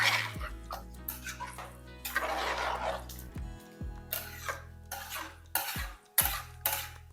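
Rice being stirred into masala in a pot for Madurai-style seeraga samba mutton biryani, heard as repeated scraping and clinking strokes in irregular bursts over a steady low background hum, with no talking.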